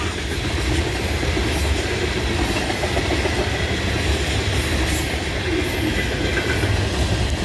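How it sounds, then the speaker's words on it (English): A CN freight train led by an ES44AC locomotive rushes past on the Neenah Subdivision in Wisconsin, a loud, steady roar of rolling wagons and wheel rumble that holds from start to finish. "Other than the sound of CN trains rushing through"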